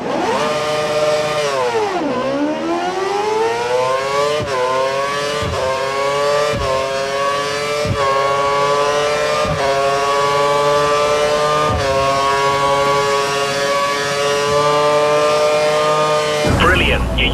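F1 car engine from the F1 2017 racing game, revving hard and climbing through repeated upshifts, each gear change dropping the pitch before it rises again, loud and continuous, with no talk over it.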